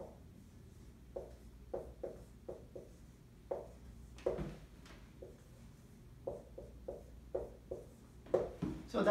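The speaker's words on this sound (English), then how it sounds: "Let me write it more clearly." Pen or marker strokes on a board or paper as a math derivation is written out, coming in short, quiet, irregular scratchy bursts with gaps between them, close by in a quiet room.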